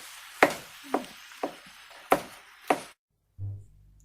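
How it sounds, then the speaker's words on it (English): A spatula breaks up mushrooms in a hot pan with five sharp, close knocks at an even pace, followed by a short pause and a low hum. "Some of these are kind of big, so I'm just going to break them with my spatula."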